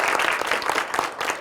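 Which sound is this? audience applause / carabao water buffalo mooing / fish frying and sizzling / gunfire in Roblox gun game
audience applause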